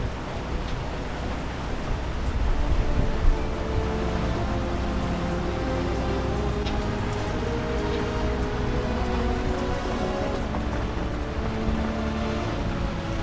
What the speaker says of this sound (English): we got ourselves a bit of rain.